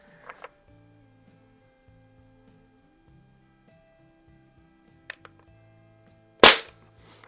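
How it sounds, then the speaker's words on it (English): A Barra 1866 blued CO2 BB air pistol with a stock .177 smoothbore barrel fires a single sharp, loud crack at a splatter target, with faint clicks before it over a quiet humming background. "I'm going to go to the bigger splatter burst now with the BBs"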